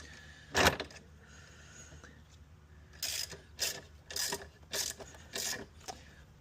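A ratchet tightens the highway peg mount bolt on a Honda Gold Wing, giving one short burst and then a run of five quick ratcheting clicks close by, separated by brief pauses.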